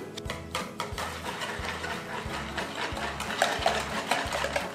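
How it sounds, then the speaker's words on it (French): Eggs and coconut sugar whisked by hand in a bowl, a steady rhythmic beating with regular clicks of the whisk against the bowl, close and fairly loud, with no voices. "Et maintenant qu'on a ça, on va venir mélanger."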